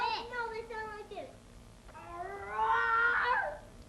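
A voice imitates a tiger roar, a drawn-out rising and falling growly call, preceded by a shorter voiced sound.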